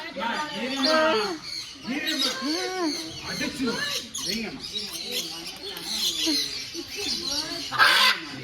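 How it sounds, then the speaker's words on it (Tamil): Birds call in the enclosure at Fundera Park in Yelagiri, a dense, busy run of squawks and chatter that never stops. Voices talk close by throughout. "இங்கே பாரு பயங்கரமா இருக்கு இந்த பறவை பாருங்களேன்"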